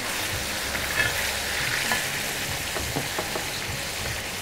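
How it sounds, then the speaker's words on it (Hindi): Ginger and garlic stir-fried over high heat in a pan, a steady close sizzle with scraping stirs throughout, no voices. "इसको तेज़ स्टर फ्राई कर लें हम जिंजर एंड गार्लिक को"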